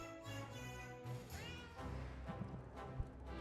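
A cartoonish cat meows in the video game Potionomics, a short rising-and-falling call heard over steady game music with light soft clicks.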